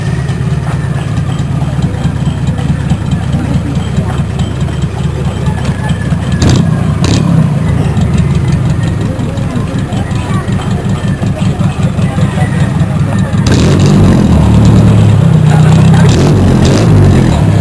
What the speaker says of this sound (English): The jeepney driver starts his engine